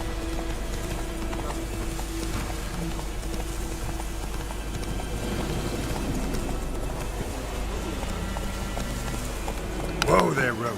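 Hooves of Roach, a horse in The Witcher 3 video game, clip-clop steadily throughout under game music and voices, with a brief louder burst near the end.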